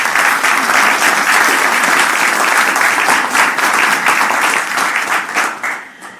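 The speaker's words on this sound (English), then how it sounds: "we can give you a round of applause" A room full of people applauds, dense steady clapping that holds for several seconds before thinning out and fading.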